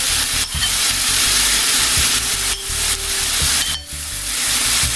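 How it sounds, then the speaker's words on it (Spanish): Mushrooms and onion frying in hot oil with salt for quesadillas, giving a loud, close, continuous sizzle broken by repeated stirring scrapes and knocks against the pan. "Ya tenemos aquí nuestros hongos con aceite caliente."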